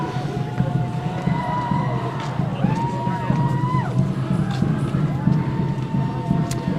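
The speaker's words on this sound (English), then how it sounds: "Very large crowd." A very large crowd at an outdoor protest against the Line 3 oil pipeline, cheering and shouting in a steady, dense roar of many voices with scattered whistles and calls rising above it throughout.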